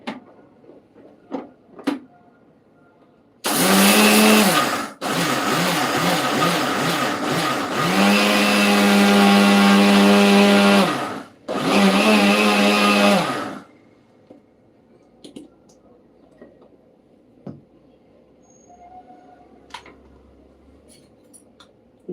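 A mixer grinder pulverizes sugar into powder in loud bursts, running in three separate pulses of a few seconds each with brief pauses between, framed by quieter handling clatter before and after.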